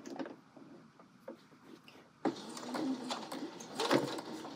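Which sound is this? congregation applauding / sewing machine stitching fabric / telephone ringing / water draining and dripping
sewing machine stitching fabric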